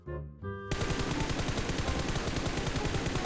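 Rapid automatic gunfire in the BGMI mobile battle royale game, a continuous loud burst of machine-gun shots that follows a brief engine-like hum, with no talk.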